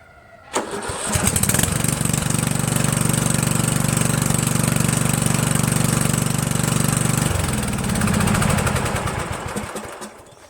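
A Yard Machines MTD utility lawn tractor with a newly replaced starter cranks and runs loudly for several seconds with a steady mechanical drone, then its tone shifts near the end before dying down.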